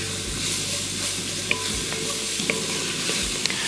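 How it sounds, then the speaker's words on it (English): Onions and celery sautéing in a hot pan with seasonings, a steady close sizzle broken by a few light clicks of a spoon stirring, no one talking. "We're gonna coat our onions and celery"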